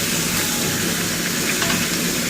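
Rui fish head frying in a pan with oil hisses in a loud, continuous, close sizzle with steady texture throughout and no talk.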